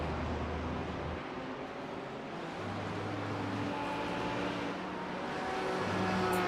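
Lamborghini race car engine in the iRacing simulator at Barcelona during a 12-hour endurance race, a steady droning run with shifting engine tones and faint crackles, continuous and fairly close, with no talking.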